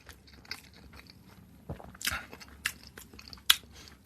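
Soft, close crunchy bites and chewing as pineapple with a dip is eaten, occurring in short, irregular bursts over quiet background.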